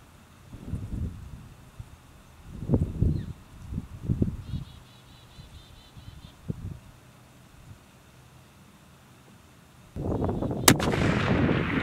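A Savage .338 Lapua rifle fires at long range in wind of at least 10 mph, producing several deep, booming reports at uneven intervals, followed by a louder rush of wind or handling noise at the end.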